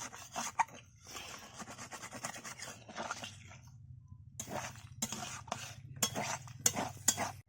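Curry of yam and prawns being stirred in a pan once the gravy comes to a boil: uneven bursts of scraping and rubbing from a spatula, with brief pauses between them and a low hum underneath, quiet and close.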